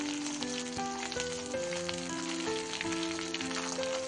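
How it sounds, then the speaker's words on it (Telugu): A cup of washed curry leaves fries in hot oil, giving a dense, continuous crackling sizzle at close range, with faint tonal hums running underneath and no talking. "ఇప్పుడు ఇదే ఆయిల్లో మనం ఫస్ట్ కరివేపాకు ఫ్రై చేసుకుందాం."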